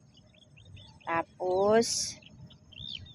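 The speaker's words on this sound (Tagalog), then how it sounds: "Wala kayong maririnig kundi ibon." Birds chirp and call in quiet countryside fields beside rice paddies, with a few short, clear tweets over faint background hiss. A brief spoken word comes just before them.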